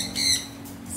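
Birds in a Jamaican garden let out a couple of quick, high squawking calls, close and fairly faint, over a low steady background hum.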